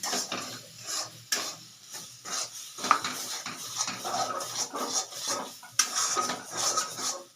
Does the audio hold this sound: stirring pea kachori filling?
yes